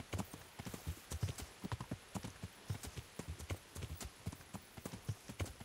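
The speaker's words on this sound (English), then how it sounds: "I'm supposed to deliver this horse." Horse hooves clip-clop at a steady walking rhythm in the video game Kingdom Come Deliverance, each sharp hoofbeat distinct and fairly close, with no talking over them.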